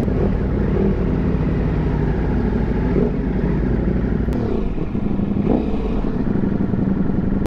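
A motorcycle engine, ridden out on a Multi, runs close and loud with a continuous rough, rumbling note. Faint clatter sits over it and the pitch shifts slightly partway through.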